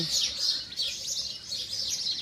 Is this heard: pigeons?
yes